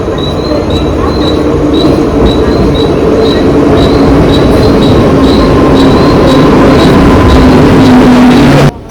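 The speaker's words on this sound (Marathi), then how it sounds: "चार अकराची ट्रेन आता आली आहे चर्चगेट ही चर्चगेटला जाणारी स्लो ट्रेन आहे" A Mumbai local slow train bound for Churchgate pulls into a station with a loud, steady rolling rumble of wheels and carriages, a thin high squeal running throughout, ending abruptly near the close.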